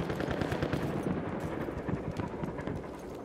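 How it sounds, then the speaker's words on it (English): A machine gun in Battlefield 1 rattles off a dense, loud stream of rapid shots that runs without a break over a rumbling battlefield background. "Machine gun right there!"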